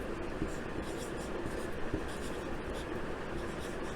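A pen scratches softly across paper in Hindi handwriting, a faint continuous scribbling close by with no talking.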